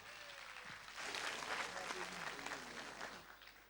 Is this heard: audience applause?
yes